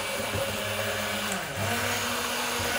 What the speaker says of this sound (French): погружной блендер нам для этого нужен